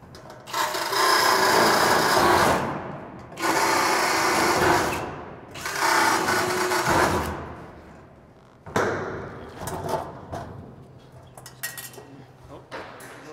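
A drill bores rivet holes through the steel roof of a shipping container. Three loud, harsh bursts of several seconds each are followed by shorter, uneven grinding and metallic clatter.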